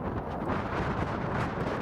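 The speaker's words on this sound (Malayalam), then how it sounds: "നല്ല കാറ്റുള്ള പ്രദേശമാണിത്." Strong wind in an exposed, windy part of Djibouti buffets the microphone in a continuous loud roar and rumble for a couple of seconds, with nothing else audible.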